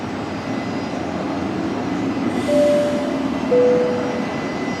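A train passing near Brisbane Airport, a steady rumbling roll with two brief high whistle-like tones partway through, heard fairly loud over a constant background roar.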